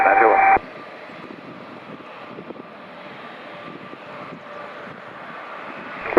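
An aircraft takes off or lands at Vancouver airport, a steady broad jet roar heard from a distance after a brief burst of radio chatter at the start.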